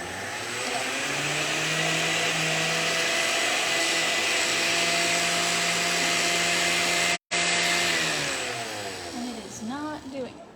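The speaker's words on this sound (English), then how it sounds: "I'll grind that and then add the rest of the sugar there" A kitchen grinder pulverizes sugar for a chocolate cake, a loud steady motor whine that runs continuously, briefly cuts out and restarts, then winds down at the end.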